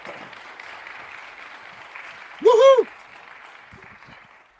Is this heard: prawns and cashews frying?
no